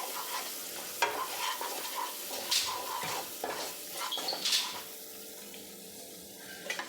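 Masala with salt and turmeric frying in a pan for a Bengali masoor dal with vegetables, heard as a faint sizzle under intermittent scraping strokes of a spoon, close by, with a few sharper clinks.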